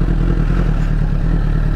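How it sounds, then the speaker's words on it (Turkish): A 1000RR motorcycle's engine drones steadily and loudly while the rider applies throttle on snow, a constant close rumble with no clear rise or drop in pitch. "bakın şu an gaza basıyorum"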